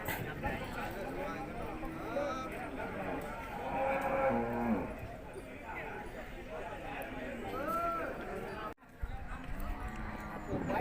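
Cows moo repeatedly at a cattle market in Kusuman, Sakon Nakhon, several drawn-out calls near and farther off, with hooves clopping and someone talking over the livestock.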